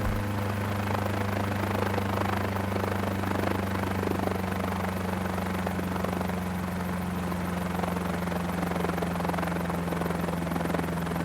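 Steady whirring drone of a small Mini 500 helicopter's rotors and engine as the rotors slow down, fairly constant and moderately loud, with no voices.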